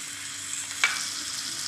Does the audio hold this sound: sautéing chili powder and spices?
yes